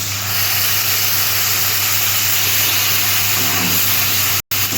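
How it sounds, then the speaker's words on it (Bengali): Spice paste for a catfish curry sizzling in a pan after water is poured in, giving a steady, loud hiss that holds evenly throughout with a brief dropout near the end. "জলটা দিলাম তরকারিটা মানে মশলাটা কষিয়ে নেওয়ার জন্য, নাহলে ধরে যাবে।"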